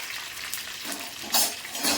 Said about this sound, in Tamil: பொரிஞ்சிருச்சு கடுவேப்பிலை போட்டுக்கலாம்